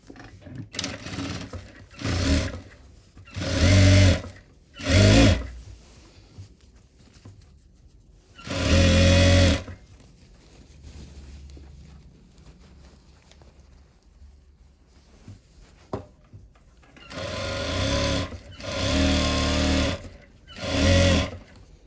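A sewing machine stitches the hem of a pattupavadai skirt in short bursts of whirring, loud and close, separated by quiet pauses, with no talking.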